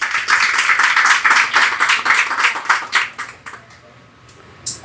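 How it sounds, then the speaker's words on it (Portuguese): Congregation applauding during a church celebration service, a dense burst of many hands clapping at steady strength for about three seconds, then thinning to scattered claps and quiet, with one last sharp clap at the end. "Você pode dar um aplauso pro Senhor para acordar?"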